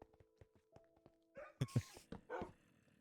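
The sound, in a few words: dogs barking in Minecraft video game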